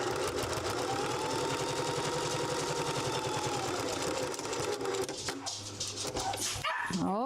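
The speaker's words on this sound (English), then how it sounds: "You can hear my puppy barking." A puppy barks indoors at a house while a sewing machine runs steadily in the foreground, its rhythmic mechanical whir dominating; the yips come in toward the end, fairly distant and partly masked by the machine.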